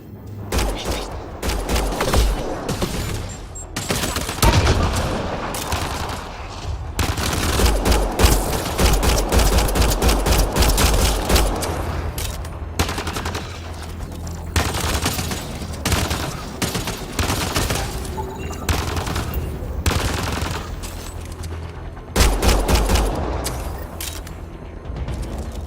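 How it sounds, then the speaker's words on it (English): Mass Effect Andromeda combat brings sustained gunfire, with dense volleys of rapid shots and heavy low booms that rise and fall for over twenty seconds, mixed with occasional mechanical clanks. "Naya, shoot it!"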